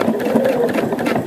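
A Pfaff sewing machine set to a 2.5 stitch length bastes a star point seam on quilt pieces, giving a steady, continuous close-up whir with no pauses.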